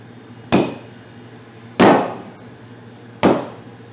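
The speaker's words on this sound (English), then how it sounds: "Then I have my bead brake hammer here" Three sharp, heavy metallic strikes of a bead breaker hammer on a work truck tire bead near the rim edge, evenly spaced about a second and a half apart, each ringing briefly.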